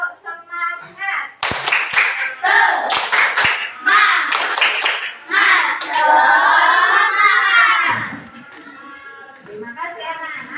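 A school class does a rhythmic 'tepuk semangat' clapping chant: loud, patterned bursts of hand claps mixed with children's chanting voices, dense and close over about ten seconds.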